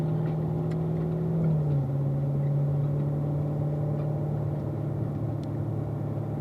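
A car engine drones steadily at close range on a race track, its pitch dropping briefly as it shifts up through the gears and then holding an even, loud hum.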